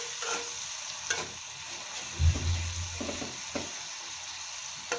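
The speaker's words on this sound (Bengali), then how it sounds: "পেঁয়াজ রসুন আদা কুচি এগুলো ভালো করে ভেজে নেব।" Chopped onion, garlic and ginger fry in oil while being stirred, making a soft steady sizzle with a few scraping strokes and one low thump midway.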